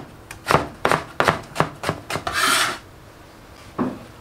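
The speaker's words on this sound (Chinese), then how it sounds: "然后把红薯切成细丝" A knife slicing sweet potato into thin strips on a board, about eight crisp rasping strokes in quick succession, a longer scraping push, then one final cut after a pause, close and clear.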